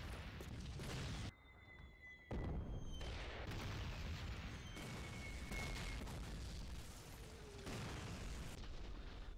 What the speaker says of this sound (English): Enjoy the artillery at the base. Battery, fire!